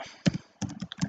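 Keys clack on a computer keyboard as a command is typed in a terminal, a few short clustered bursts of close, crisp taps with brief pauses between them.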